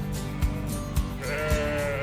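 A person imitates a few sheep bleats on a Xinjiang road trip with sheep and cattle nearby. The short, nasal cries come close and fairly loud in three spaced pulses over a low steady rumble.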